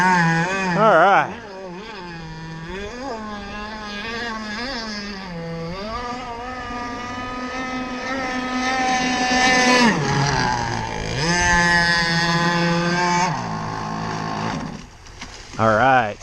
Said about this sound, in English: the engine in this is a GZR from Gizmo Motors, 30cc